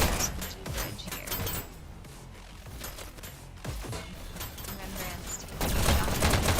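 Gunfire crackles in a VR e-sports shooter match, with bursts of rapid shots and sharp cracks, some loud and some more distant, under a commentator's voice.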